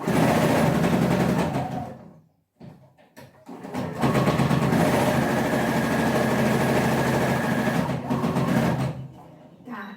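A sewing machine runs in long steady bursts while stitching a security seam on a patchwork cushion cover, its motor droning loud and close, with a brief pause near the start and another near the end.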